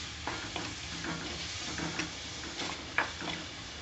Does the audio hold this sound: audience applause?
no